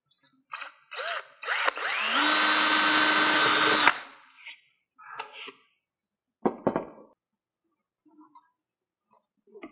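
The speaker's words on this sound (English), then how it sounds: "I'm drilling through the vinyl into the plastic" A power drill whirs steadily for about two seconds through vinyl into plastic on a first-generation Camaro door panel, after a few short bursts, followed by scattered handling knocks and clatter nearby.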